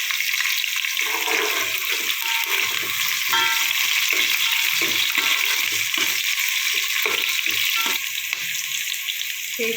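Frying ingredients, green chillies among them, are mixed in a pan over a loud, steady sizzle, with scraping stir strokes breaking through close up. No one speaks.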